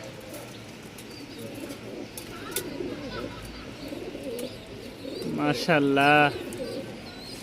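Pigeons coo softly and steadily at a busy pigeon market in Mirpur-1, Dhaka, with a loud close burst of cooing near the end, under crowd murmur and someone talking.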